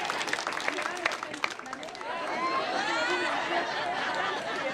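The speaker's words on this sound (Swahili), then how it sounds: "Makofi kwa Jeri." An audience claps for Jeri at a gathering in a dense burst of applause that fades after about two seconds into a murmur of crowd voices.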